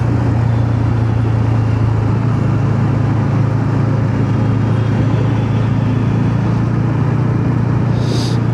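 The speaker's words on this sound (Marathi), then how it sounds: "पहिल्यांदा हायवेवर गिअर बाईक घेऊन आलेला आहे" A geared motorbike cruises smoothly in fourth gear on a highway, its steady engine drone and road rumble continuous and close throughout, with no break or gear change.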